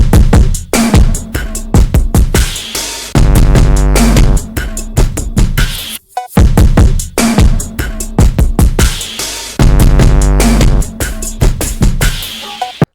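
Hip-hop beat: a drum loop layered over deep booming 808 bass, dense and loud, driving steadily with a brief gap midway before the pattern restarts.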